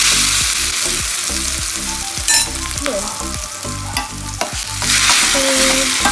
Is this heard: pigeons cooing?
no